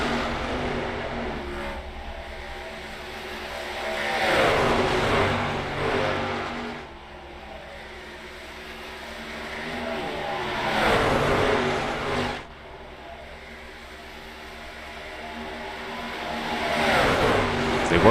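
Race trucks in a sim racing video game run laps in a green-flag pack, engine drone rising and falling as the field sweeps past in waves, steady and mid-distance throughout.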